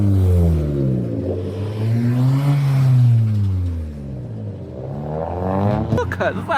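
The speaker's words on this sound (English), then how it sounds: "go film some cars arriving" Cars arrive at an outdoor car meet, engines revving and rising and falling in pitch as they pass close by one after another. A brief clatter sounds near the end.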